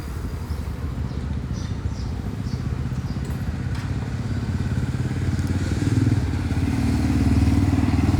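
Road traffic rumbles nearby, dominated by a motorcycle engine's low throbbing putter. Steady clatter and passing vehicle noise build slightly louder toward the end, with no clear speech.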